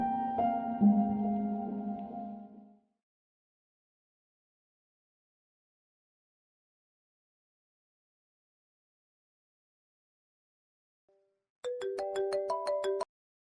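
A phone ringtone plays on an outgoing call, with a melodic tune for a few seconds, then a long silence, then another short, rhythmic chiming melody near the end.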